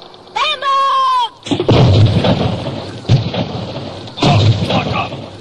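Cannons boom in an animated adventure, several heavy blasts in quick succession with rumbling echoes, loud and close, after a short high musical or whistling tone, with shouted voices mixed in.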